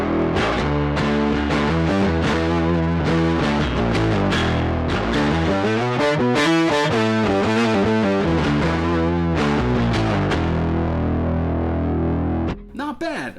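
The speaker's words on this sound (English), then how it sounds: "you can get some really good rocky, distorted bass tones here" Rocky, heavily distorted bass tones played on the Yonac Roxsyn synth app, a series of gritty sustained notes with pitch slides and a thick chorus-like sheen, loud and close, ending with a short glitchy burst.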